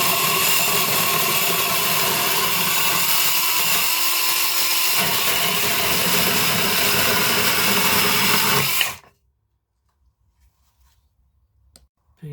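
A mini cordless chainsaw cuts through a piece of decking board with a loud, steady, high buzzing whine that runs for about nine seconds, then stops abruptly into near silence.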